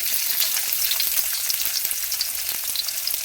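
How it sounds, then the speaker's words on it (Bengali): Garlic and onion frying in a little oil, a close, continuous crackling sizzle studded with sharp pops and stirring clicks, with no one speaking. "এখন এটাকে আমরা হালকা একটু ভেজে নিব, যেন রসুনের কাঁচা কাঁচা গন্ধটা না আসে।"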